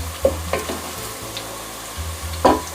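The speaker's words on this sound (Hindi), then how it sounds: "और 1 मिनट तक भूनूँगी, ताकि जो हमारे अदरक लहसुन की जो स्मेल होती है वो इसमें से निकल जाए" Ginger garlic paste fries in a pan for a chicken shan pulao biryani, a soft steady sizzle broken by a few sharp clinks and scrapes of a spoon stirring, close by with no talk.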